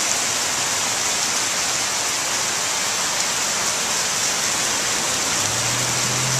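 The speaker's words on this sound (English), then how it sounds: "You can see the rain coming down over here." Heavy rain pours down during a Denver flood, a loud, continuous hiss that hardly changes, with a low hum creeping in near the end.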